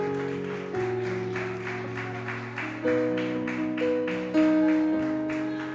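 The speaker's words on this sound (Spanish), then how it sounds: "aplauda al Señor, denle un aplauso al que vive" A church congregation claps along steadily during a service, dense rhythmic applause over sustained organ or keyboard chords, fairly loud and continuous throughout.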